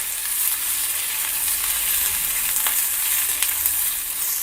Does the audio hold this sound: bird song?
no